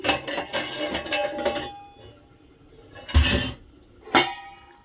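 Pots and metal vessels clink and knock as they are stacked away in a home kitchen, a cluster of clatter followed by two sharper, separate clanks close by.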